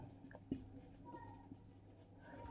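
Marker or chalk strokes scratch across a board during an accounting lecture, a few short taps and scrapes at close range in a quiet room, with no talk over them.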